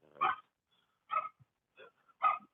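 Small dogs barking in short, sharp bursts, about four yaps spread across a couple of seconds with quiet gaps between, fairly close and moderately loud.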